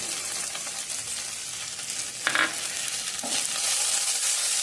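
Masala frying and being stirred in a pan for a fish curry, with a steady bright sizzle throughout and a couple of short scraping stirs partway through, close and moderately loud.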